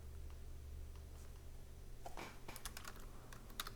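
Quiet typing on a computer keyboard, a few scattered key taps building to a faster burst of clicks near the end, heard alone over a low background hum.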